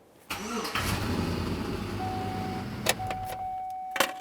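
A Chevrolet Silverado 1500 pickup truck engine cranks and starts, then settles into a steady idle, with a couple of brief clicks or knocks near the end.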